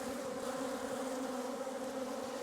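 Honeybees swarm around farm beehives in Portugal, a dense, even drone of many wings filling the air nearby, steady and unbroken, with no voices over it.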